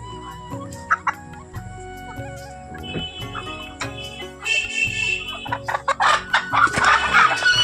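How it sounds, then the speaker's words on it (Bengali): Sonali chickens in a yard clucking and calling, scattered single clucks at first that build into a busier, louder chorus of several birds near the listener, no talk. "কি সুন্দর মুরগি দেখো অনেকগুলো মুরগি এখানে আছে"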